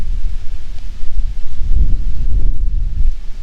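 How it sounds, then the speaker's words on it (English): Strong wind buffets a fishing boat out on open water, a loud, gusting low roar and rumble of wind against the microphone that surges and ebbs steadily with no voices. "Man, this wind has been something else today."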